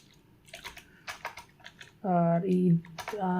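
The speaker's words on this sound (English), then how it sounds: "Let me just directly type" Key taps on a computer keyboard come in short irregular bursts during a hacking walkthrough, with a voice speaking over the later part.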